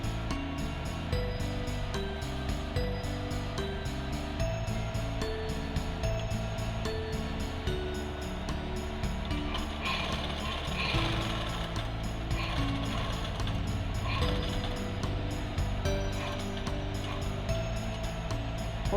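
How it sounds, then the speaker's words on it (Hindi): A sewing machine stitches quilted cloth for a bag, running in a steady, continuous mechanical whir with a rapid rhythmic clatter that holds loud and close throughout, with no speech. "अब हम सिलाई शुरू करेंगे"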